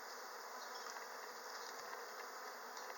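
A steady, fairly faint swarm of honey bees hums continuously around an open hive during an inspection, with no talking.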